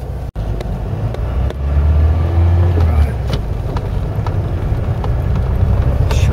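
Interior of a Ford Cortina Mk3 driving round a roundabout: a loud, steady engine drone and road rumble with a sharp knock near the start and scattered rattles throughout.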